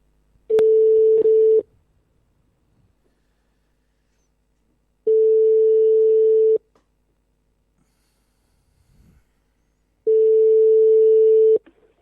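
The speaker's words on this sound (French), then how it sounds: "vous allez entendre la tonalité" Three long, steady single-pitch tones from a telephone line while a call is placed, each about a second long and separated by several seconds of silence, clean and close with no talking over them.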